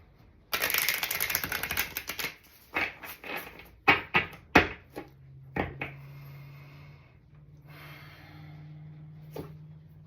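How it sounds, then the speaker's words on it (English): A deck of tarot cards riffles and shuffles up close, a fast flurry of crisp flicks followed by several sharper taps, then a low hum. "One more shuffle."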